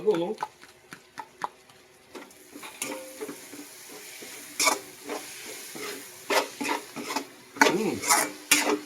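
Laing with bagoong being stirred in a pan, soft sizzling and frying under scattered scrapes and clanks of a utensil against the pan at close range, with irregular stirring strokes throughout.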